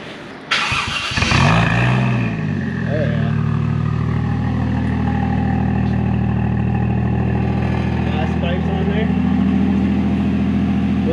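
A Honda Civic EK engine cranks briefly, catches with a burst, then settles into a steady, rumbling idle that continues close by for several seconds.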